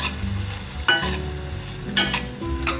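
Peanuts stir-fried in a pan with soy sauce reduced almost dry for a Korean side dish, a soft steady sizzle broken by a few scraping stirs of the spatula.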